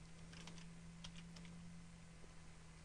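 Someone types on a computer keyboard, with a few quiet, scattered keystrokes clicking over a low steady hum and no talk.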